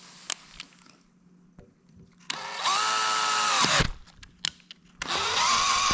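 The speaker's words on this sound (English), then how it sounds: "I'm going to drill a little deeper." A power drill bores deeper into a hole meant for a screw: two close, loud bursts of steady whining motor, separated by short clicks and handling knocks.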